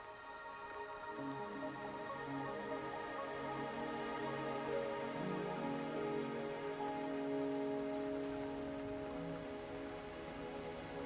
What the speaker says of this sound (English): Are you trapped here by the rain?